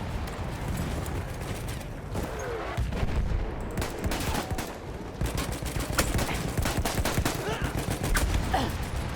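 Rapid gunfire in the Battlefield 1 video game, bursts of sharp shots and fusillades that grow denser and louder, mixed with clattering battlefield noise.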